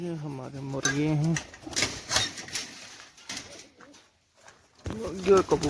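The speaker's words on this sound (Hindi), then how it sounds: "मुर्गे और कबूतर एक हाथ में ही होते हैं। ये रहे कबूतर, ये हमारे मुर्गे।" Pigeons coo in a repeated, throaty rhythm close by in a backyard coop kept alongside chickens, with the calls partly masked by rustling and handling noise.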